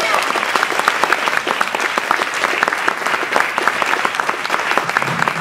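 An audience at a civic rollout event applauds to welcome a speaker, a loud sustained burst of many hands clapping with individual sharp claps standing out, and faint voices mixed beneath.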